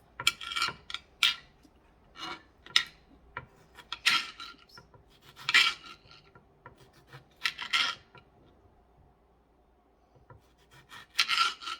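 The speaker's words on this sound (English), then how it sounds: "There might be easier ways to slice the tomatoes." A knife slicing through tomatoes on a board for a simple pasta dinner, with about eight close, rasping cut strokes in uneven bursts separated by quiet pauses.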